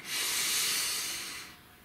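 One long, slow breath drawn in, airy and hissing, close and fairly loud, swelling then fading away over under two seconds.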